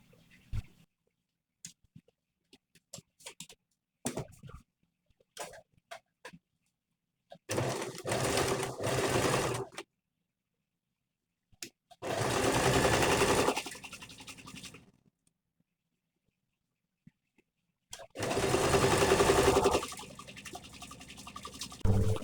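A sewing machine hems a gown sleeve in three bursts of steady whirring stitching, each a few seconds long, separated by quiet pauses with faint handling clicks.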